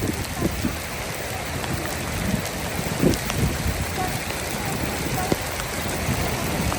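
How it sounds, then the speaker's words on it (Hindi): Hail pours down steadily during a storm in Batumi, Georgia, a dense, even hiss of pelting ice with scattered sharper impacts. Someone talks over it at times. "आप देख रहे हो हेल स्टॉर्म, ओले ओले पड़ रहे हैं, ओले।"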